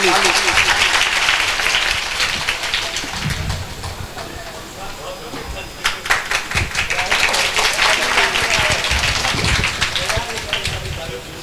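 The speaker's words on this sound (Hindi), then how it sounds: "ताली।" Audience at a welcome ceremony held by a Krishna puja committee claps in dense bursts that swell and fade, with a speaker's voice over the crowd.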